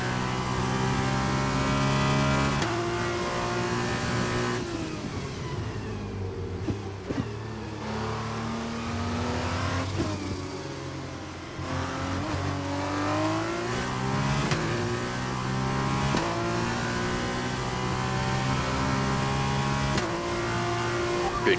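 Formula race car engines from a PS4 racing game roar continuously at high revs, with gear shifts and pitch sweeps rising and falling as cars accelerate and brake through a lap, loud and steady throughout.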